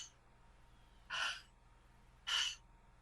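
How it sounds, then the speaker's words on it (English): Two deep, audible breaths drawn through the mouth in conscious connected breathwork, each a soft rushing whoosh about a second long, close and alone over a low steady hum. "breathing in and out through the mouth in a circular connected way"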